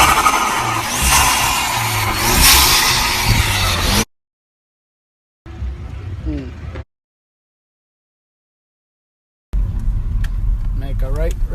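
A car fitted with a Unitronic cold air intake drives and revs, the engine roaring loudly up close in bursts broken by abrupt silent gaps.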